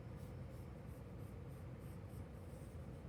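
A pencil drawing a small oval on paper, a soft continuous scratchy rubbing at close range and low level, steady with no voices.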